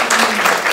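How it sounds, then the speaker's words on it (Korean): A church audience claps together at a Compassion ministry event, a brief dense burst of steady applause with no voices over it. "한번 박수 쳐주시면 너무 감사할 것 같습니다."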